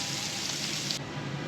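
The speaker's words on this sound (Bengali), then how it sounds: "মাছটা হালকা করে ভাজবো, বেশি কড়া করে ভাজতে হবে না" Fish fries lightly in a pan, giving a soft, steady sizzle with fine crackling at close range and no talking.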